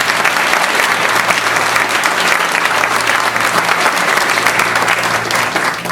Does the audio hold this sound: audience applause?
yes